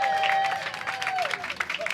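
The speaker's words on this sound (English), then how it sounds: "give them a round of applause up here." A live audience claps and cheers at a comedy-style show in Nashville, a short burst of dense applause with a crowd murmur under it.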